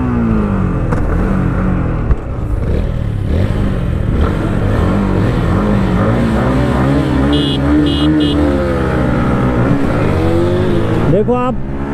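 A TVS Apache 160 4V and a Yamaha MT15 motorcycle drag race, their engines roaring loud and close as they rev and climb through the gears, with wind rushing over the whole stretch.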